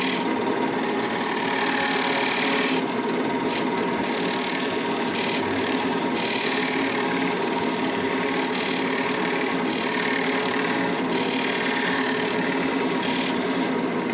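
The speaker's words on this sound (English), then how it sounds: "Then I'll use my parting tool." A parting tool cuts into spinning wood on a lathe while a thread is being chased, giving a steady, continuous rasping scrape with a few brief louder catches, close and alone.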